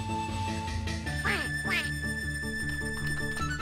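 Ducks in the video game Shenmue 2 quack over a constant bed of game music, with several quick, nasal quacks in a row, fairly loud and up front.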